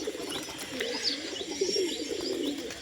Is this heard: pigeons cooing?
yes